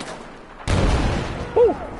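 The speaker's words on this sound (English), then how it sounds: "Explosion in my face." A sudden loud explosion in Battlefield 4 bursts in after a quiet moment, followed by a rumbling tail and a short sharp whistle-like cry near the end.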